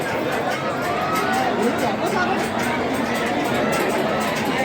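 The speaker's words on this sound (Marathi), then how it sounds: "सॅटर्डे असल्या कारणाने इथे गर्दी खूप जास्त" A heavy weekend crowd murmurs continuously at Omkareshwar temple, a thick, unbroken babble of many nearby voices throughout.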